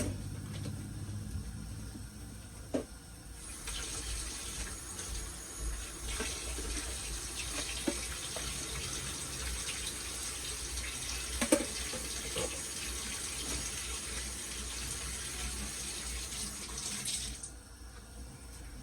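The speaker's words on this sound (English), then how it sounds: "Now I'm gonna be washing my rice" Tap water runs steadily into a sink while rice is washed for a rice, shrimp and lima bean dish, a continuous rushing stream with a few light knocks, close and alone with no talk.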